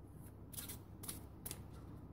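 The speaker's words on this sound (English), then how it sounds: "I'll shuffle." Playing cards riffled together in a few quick, crisp bursts, quiet and close, with no talk.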